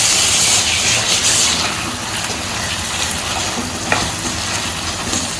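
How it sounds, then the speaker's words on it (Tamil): Chicken liver roast sizzles and fries in a pan as it is stirred after pepper powder is added, a steady dense crackle with scraping stirs, loud and close, with no voices. "போட்டு அப்படியே கிளறி விட்டுலாம்."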